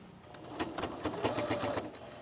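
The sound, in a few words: sewing machine stitching a blouse collar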